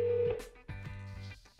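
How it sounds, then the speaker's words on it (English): Touch-tone dialing beeps from a phone call placed through Google Assistant, a quick series of separate electronic tones with short pauses between them. "Hey Google, call Sierra."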